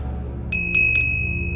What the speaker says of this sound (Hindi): उस बूढ़े ने एक छोटी सी घंटी वहीं पास से उठाई और धीरे से उसे 3 बार बजाया